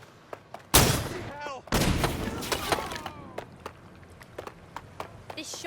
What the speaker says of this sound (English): This shotgun will sort you right out, mate.